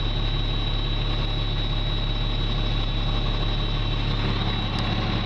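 A 1988 International 1854 4x4 dump truck engine idles cold, a steady low rumble with a constant drone that holds unchanged from start to finish, close by and alone.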